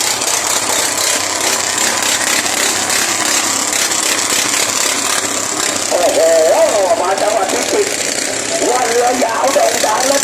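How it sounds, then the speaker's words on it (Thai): A farm tractor's steady, loud, rumbling engine drones throughout, close by, with voices talking faintly over it in the second half. "มีรถไถนามาดัง"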